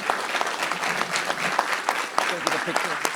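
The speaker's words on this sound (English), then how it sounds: "Let's give him another round of applause." Steady round of applause filling a board meeting room, dense clapping from a seated audience lasting throughout with a few sharper claps standing out.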